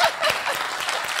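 Brief applause from a small audience, a short burst of overlapping clapping at moderate volume heard for just over a second.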